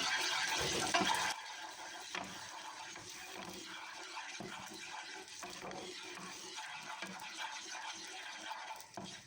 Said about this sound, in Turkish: Eriyen yağın içine bir tatlı kaşığı toz biberimi koydum. Bunu da şöyle karıştıracağım.